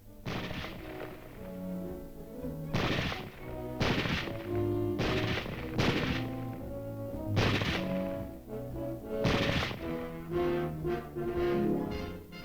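Repeated sharp reports at an army reserve rifle range, about eight loud shots spaced irregularly over a steady background of tonal music, with no talk.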